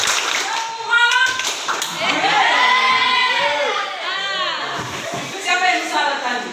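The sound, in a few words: children clapping hands in a clapping game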